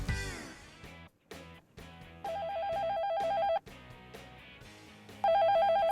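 A telephone rings in a TV shopping studio in repeated electronic trilling bursts, loud and close, mixed with short musical tones and pauses between rings.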